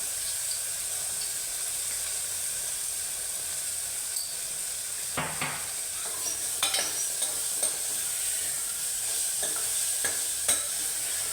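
Onion sizzling and frying with a little salt in a pan for a bitter val bean and ridge gourd sabzi, a steady close hiss with occasional stirring scrapes, no talking.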